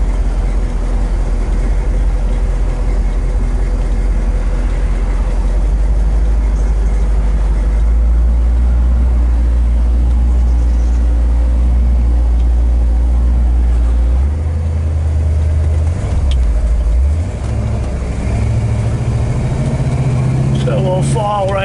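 A 1967 Chevrolet El Camino Custom's engine drones low and steady during a test drive near Laguna Beach, with a shift in tone partway through as the car slows and pulls away again, and someone talking over it.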